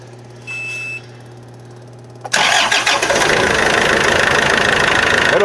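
A Doosan S30D forklift with a faulty coolant temperature sensor: a faint tone and steady hum, then a sudden starter crank as the engine catches and settles into a loud, close, rough idle.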